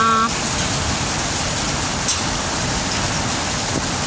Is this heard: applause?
no